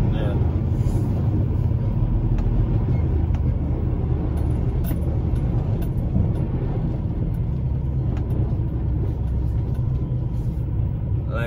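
A flatbed truck's engine rumbling low and steady as it pulls in at a loading area, a continuous close drone heard under someone talking.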